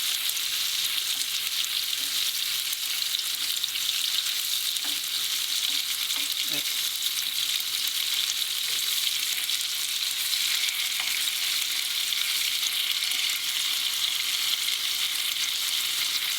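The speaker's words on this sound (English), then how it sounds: "You will see the other side will get fried, I think, a little bit quicker than the first side" Tofu pieces fry in a pan with a steady, bright sizzle throughout, and a few soft taps as pieces are turned with chopsticks.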